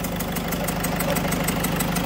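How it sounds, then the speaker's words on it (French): Peugeot 207 1.6 HDi diesel idling with a rapid ticking that repeats with every engine revolution, caused by leaking injector seals; the steady, close engine noise runs throughout with no speech. "on a un bruit de retour de flamme, le fameux chip chip chip chip chip chip à chaque tour moteur"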